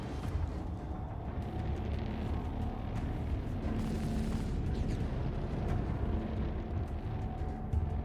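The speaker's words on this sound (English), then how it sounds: "How many turrets were firing at us?" Heavy turret fire and rumbling booms during a Star Citizen scavenging fight in the Pyro system, a steady low roar with scattered thumps and bursts, fairly distant and continuous.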